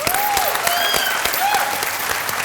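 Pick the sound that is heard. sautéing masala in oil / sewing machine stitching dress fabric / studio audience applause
studio audience applause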